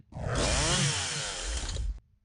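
Chainsaw attack in the video game OpenXcom with the Warhammer 40k mod, a loud buzzing motor roar that revs and grinds steadily for about two seconds, then cuts off abruptly.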